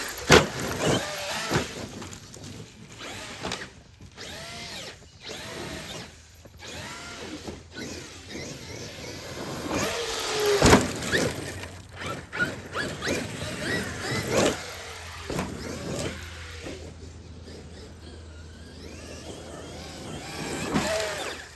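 A Traxxas X-Maxx 8s RC truck drives with a whirring electric motor that surges and fades, alongside rattling and bumping noises.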